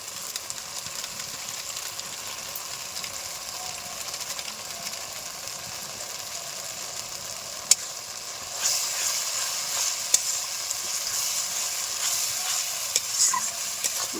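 Spices with turmeric powder and Kashmiri chilli powder fry in a pan for a chital fish muitha, giving a steady, even sizzle with a few sharp scraping clicks from stirring. No one speaks.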